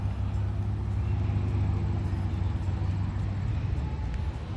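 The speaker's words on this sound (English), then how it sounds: "That's why the noise of the cars." Road traffic from a road below a small hill by a park, cars passing as a steady, continuous low rumble throughout, moderately loud, with no talk over it.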